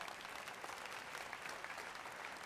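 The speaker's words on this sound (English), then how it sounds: "Let's give her a round of applause." Steady applause from a ceremony audience at an induction event for a Black music walk of fame, dense and continuous clapping throughout with no voices over it.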